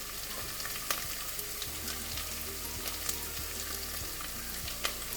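Chopped green chili frying in a pan for homemade pasta, a steady close sizzle and crackle with scattered sharp pops, no one talking.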